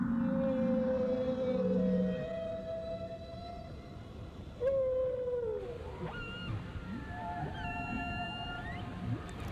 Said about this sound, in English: cast their song into the sea with a thunderous voice